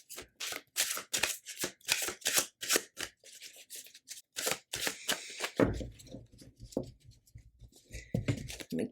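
A thick tarot card deck is shuffled by hand up close, making rapid, crisp card-slapping bursts in a steady rhythm, followed by softer, rougher shuffling over a low rumble.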